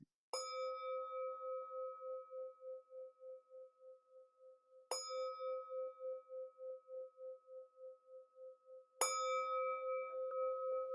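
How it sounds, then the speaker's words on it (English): A Tibetan bell is struck three times, about four seconds apart, each strike a clear bright ping that rings on with a slow pulsing shimmer as it fades, in an otherwise silent room. "ring my Tibetan bell"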